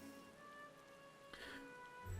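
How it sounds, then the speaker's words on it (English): Steady rainfall in the city of Radz-at-Han in Final Fantasy XIV, a soft, even hiss over faint sustained musical tones, with a brief brighter splash of sound partway through. "And it's raining."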